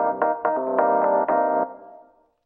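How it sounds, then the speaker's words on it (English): Synthesized log drum preset in Cantabile plays a quick sequence of plucky, woody struck notes with short attacks, then a fading tail; no talking over it. "I just called it Log Drum."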